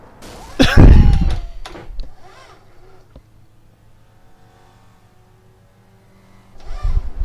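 A car collision in an iRacing SRF race at Okayama: one loud close impact thump with scraping, a second smaller knock, then a low engine drone that fades before another burst of engine noise returns.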